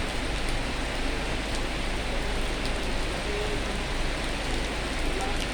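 Steady rain pours down during a storm while sheltering at a fuel station, a dense continuous hiss of drops on surfaces filling the whole stretch, close and even with no pauses.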